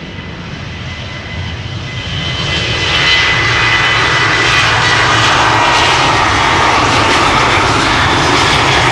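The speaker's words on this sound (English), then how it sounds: "Now this is KLM flight 10312 to Persenchester, a 737-800, the PHBGA, 16 years old, first flight March 2008." KLM Boeing 737-800 jet departing Amsterdam Schiphol, engine noise building over the first three seconds into a loud sustained takeoff roar.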